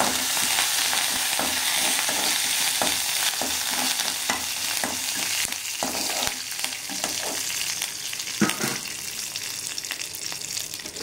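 Curry leaves crackle and sizzle in a small amount of hot oil with cumin seeds, a dense close spatter with sharper pops scattered throughout and no voices.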